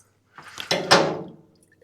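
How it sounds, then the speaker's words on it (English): Gasoline mixed with water drains from a disconnected fuel line into a glass jar, a short close gurgling splash that swells in a few bursts and then trails off, with no talking. "Let's take off the fuel line and see what it looks like going into a jar."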